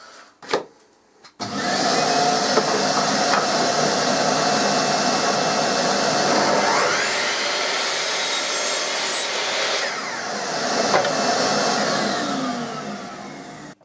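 A workshop dust extraction vacuum switches on after a brief knock and runs steadily at a loud, even roar, with faint rubbing and scraping noises over the top.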